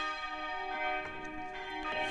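Church bells ringing out for Sunday service at a Georgian parish, the largest bell silent: sustained ringing tones with overlapping strikes every half second or so, resonant and moderately close.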